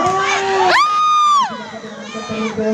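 Spectators at a volleyball match between Prenges and Paya Nahu cheer and shout, a loud rising whoop from many voices that swells, holds, then falls away into scattered crowd noise.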